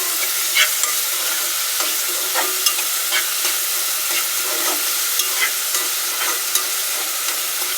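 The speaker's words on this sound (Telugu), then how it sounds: "ఇప్పుడైతే ఉల్లిగడ్డలు వేయించుకోవాలి మంచిగా" Onions fry in a pan with a bright, constant sizzle, while a utensil stirs and scrapes in repeated soft strokes, close and with no talking.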